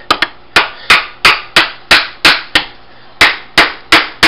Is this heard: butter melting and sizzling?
no